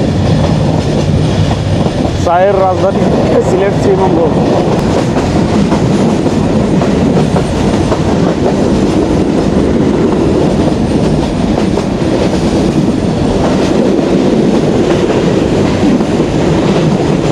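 Jayantika Express passenger train running on rails near the Srimangal tea gardens, a steady loud rumble with rhythmic wheel clatter throughout, heard from inside the carriage with a voice speaking over it.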